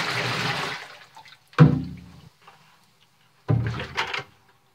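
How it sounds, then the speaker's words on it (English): Liquid from a beaver tail tanning pail splashes out in two heavy pours with a short pause between them, loud and close, sloshing and draining away each time. "So I'm going to go ahead and dump this out."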